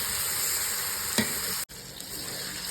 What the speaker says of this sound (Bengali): হালদারবাবু ওল তরকারি বানাচ্ছেন আমাদের কাঠের উনুনে